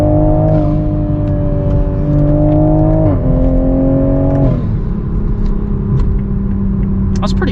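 A 2021 Toyota Supra on a canyon drive gives a loud, steady exhaust drone from inside the car, with engine pitch shifting in steps across several gear changes.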